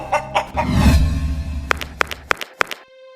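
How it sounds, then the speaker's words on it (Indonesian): Several chickens cluck at a house, with short sharp clucks repeating close by, mixed with a louder rough, squawking burst early on, then a series of quick separate clucks near the end. "Di rumah saya banyak banget ayam"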